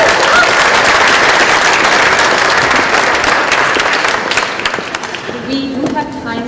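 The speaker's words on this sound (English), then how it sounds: "We have an extra applause for the good food that Buffalo Public Schools." Audience at a talk on building a local food economy breaks into loud sustained applause, dense clapping that fades toward the end as a voice begins speaking.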